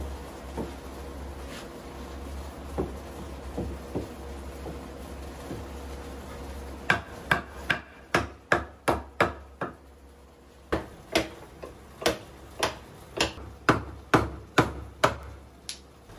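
A chisel smooths a Ryoba saw cut in wood to get a tight joint for a hand-tool bench. Quiet scraping gives way midway to a steady run of sharp, evenly spaced taps and strikes.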